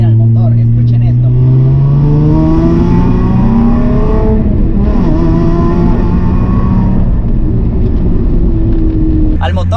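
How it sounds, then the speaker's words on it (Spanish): A modified Nissan 350Z with headers and a three-inch straight pipe revving hard, its loud, raspy roar sweeping up and down in pitch through several throttle blips, close and continuous throughout. "Se le colocaron headers y se le colocó una tubería directa hasta la parte trasera en 3 pulgadas. Es por eso que hace ese sonido, ese rugido impresionante"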